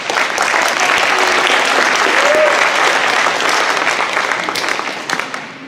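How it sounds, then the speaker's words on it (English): Sustained loud applause from an audience at a school awards event, steady clapping filling the room for several seconds before tapering slightly at the end, with no one speaking over it. "So she deserves a lot of applause for doing that"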